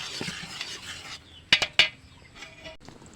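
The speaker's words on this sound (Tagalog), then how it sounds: "Haluin lang po natin ng haluin para siya ay lumapot." A spoon stirs a thickening tira-tira candy mixture in a pot, with soft scraping followed by a few sharp metallic clinks of the utensil against the pot rim.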